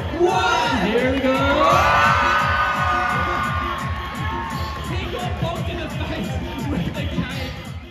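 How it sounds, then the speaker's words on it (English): A large crowd cheers, whoops and yells, loud and sustained, with shrill voices rising over the roar before it gradually eases off. "On the count of three, make some noise for Lucas."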